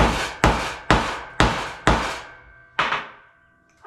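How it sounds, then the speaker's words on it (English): Brass hammer knocking a U-joint cap into place on the front axle of a 2004 Dodge 3500: five sharp, evenly spaced metallic blows with ringing decay, a pause, then one final strike, close and loud. "I'm just gonna knock it in place with a brass hammer."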